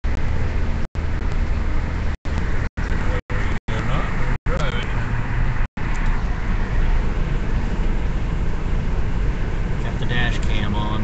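A car drives along Southwest Boulevard in Kansas City, Missouri, with a steady broadband road and wind rumble throughout, close and continuous, broken by several brief dropouts to silence in the first half.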